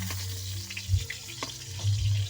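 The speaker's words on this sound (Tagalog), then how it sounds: "Pritong hotdog." Hotdogs fry in a pan with a steady close sizzle, broken by a few soft utensil knocks and scrapes, with a low hum running beneath.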